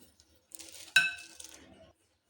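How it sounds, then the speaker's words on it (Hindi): A spoon clinks sharply against a bowl while chicken marinade with lemon and salt is stirred, a brief close metallic ring amid soft scraping, quiet and alone. "अब हम इसको अच्छी तरह से मिक्स कर लेंगे।"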